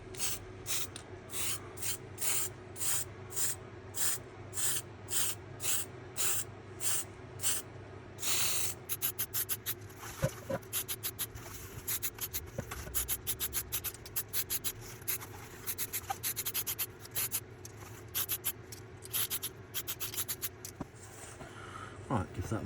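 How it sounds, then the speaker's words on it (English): Repeated short hissing bursts from an aerosol spray can in an even rhythm, then quicker rapid spritzes, close up and fairly quiet. "time for some spraying"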